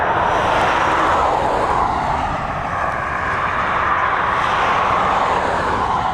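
Airliner on runway 10R at Dublin Airport, a loud, steady jet roar that holds for several seconds with a gentle swell and fade.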